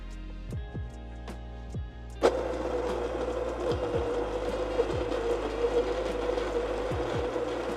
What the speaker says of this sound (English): I'm just going to put this in the grinder and grind all of it.